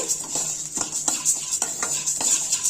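Coriander seeds are dry-roasted in a pan and stirred with a spoon, giving repeated scraping strokes in a steady rhythm with a light rattle of seeds against metal, close and clear with no talking.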